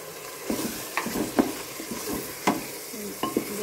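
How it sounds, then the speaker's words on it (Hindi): Chopped tomatoes frying in a pan with spiced eggplant for an Indian baingan masoor dal, stirred in a few soft scraping strokes over a steady low sizzle. "अब हम इसमें डालेंगे कटे हुए टमाटर"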